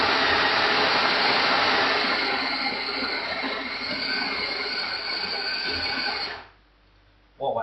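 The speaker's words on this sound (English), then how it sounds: "here we go onto the grinder, set the grinder up" An electric coffee grinder grinds beans for espresso at home, a loud close continuous whirring roar that holds steady for several seconds before cutting off abruptly, leaving near silence and then a brief clatter.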